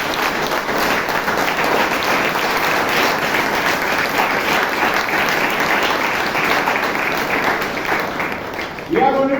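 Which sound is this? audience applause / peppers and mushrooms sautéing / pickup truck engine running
audience applause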